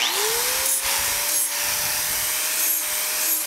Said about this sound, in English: I'm just using a flap disc sander